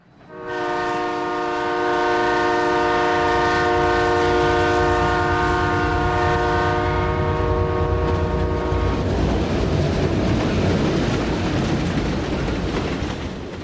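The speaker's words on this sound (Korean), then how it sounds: "강원도의 탄광에서 채굴된 석탄은 적재함에 실려서 화물열차를 통해 운송된다." Freight train hauling coal mined in Gangwon-do in loaded wagons, a sustained loud rumble with a long multi-tone horn blast lasting about nine seconds, then continuous rolling rail noise.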